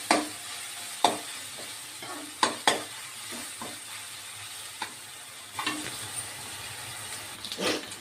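Ginger garlic paste fries in a pan with a soft steady sizzle. A spoon stirs it, giving occasional sharp scrapes and clinks.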